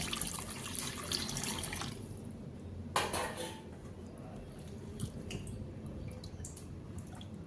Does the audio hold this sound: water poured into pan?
yes